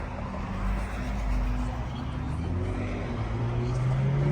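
A Cadillac Vistiq's V6 engine rumbling steadily with a low, uneven drone that slowly rises in pitch, loud and continuous with no talking.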